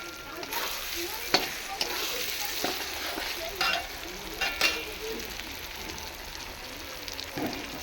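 Four onions frying in a pan as the base for a Bengali country-chicken curry give a steady hiss of sizzling oil throughout, with several sharper scrapes and clatters of a spatula stirring them.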